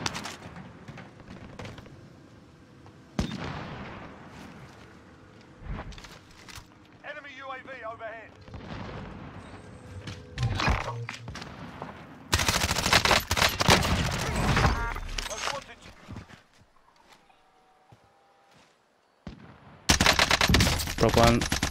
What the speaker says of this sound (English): I'm getting shot from fucking behind